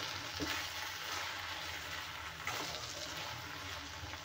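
Tomatoes and onions for a chutney simmer and sizzle softly in a pan, a steady low frying hiss with a couple of faint stirring clatters, no voices.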